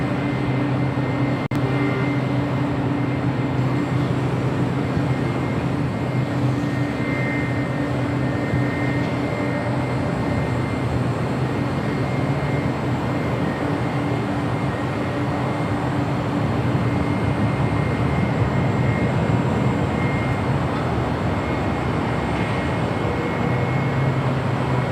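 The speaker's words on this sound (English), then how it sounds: "The United 777-200 coming in from Chicago O'Hare, 3 minutes out, south side arrival." A United Boeing 777-200 arriving from Chicago O'Hare on approach to LAX, a steady loud jet engine roar that swells slightly toward the end.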